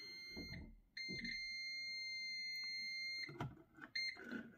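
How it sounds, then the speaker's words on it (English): Steady electronic beep from a multimeter's continuity test while probing a pin on a Golf 7 body control module, a sustained tone held for a few seconds between shorter beeps, with faint handling noise. "And over here we have the beeping."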